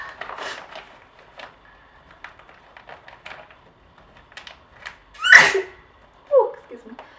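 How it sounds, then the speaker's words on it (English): A single sharp sneeze bursts out after some quiet tapping and handling noises, followed by a brief murmured voice. "I sneeze so weirdly"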